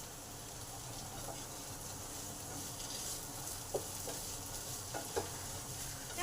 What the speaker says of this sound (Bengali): এই সময় পেঁয়াজটা দিয়ে দিলাম।